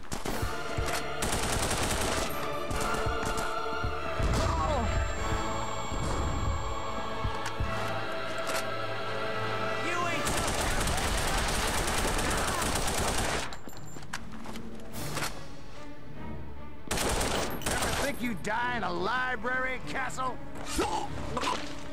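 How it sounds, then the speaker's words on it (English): Enemy gunfire in The Punisher on the original Xbox, rapid bursts and scattered shots over a busy game soundtrack with impacts and gasps, continuing across the stretch while a player talks over it. "There's some random asshole shooting me."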